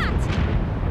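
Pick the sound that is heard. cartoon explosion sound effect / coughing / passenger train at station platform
cartoon explosion sound effect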